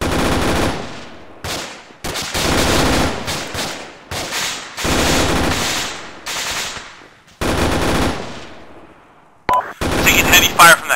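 Heavy gunfire in the military shooter game Arma 3, with long sustained automatic bursts broken by short gaps and a sharper cluster of shots near the end, loud and close.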